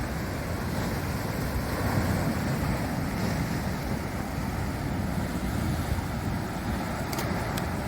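A continuous wash of surf surges over rocks nearby, broad and rushing, mixed with some wind buffeting, with no voices.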